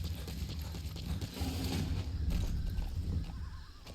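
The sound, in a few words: horse in Metal Gear Solid 5 video game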